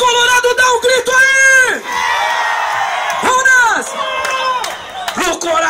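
Samba school crowd at the Colorado do Brás technical rehearsal shouting together, loud rising and falling yells and whoops in several big bursts separated by short lulls.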